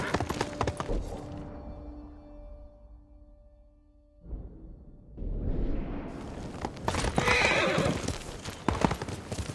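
In the Ghost of Tsushima video game a horse gives a loud whinny, then goes quiet for a moment before its hooves pound in a fast gallop that swells and grows louder toward the end.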